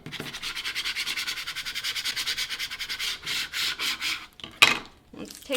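A small squeegee tool rubs vinyl transfer tape down onto a cut design, making a fast run of rhythmic scraping strokes that are close and steady, then a pause and a few final swipes.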